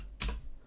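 A single crisp keystroke on a computer keyboard, typing a terminal command, sounds close and quiet in an otherwise still room.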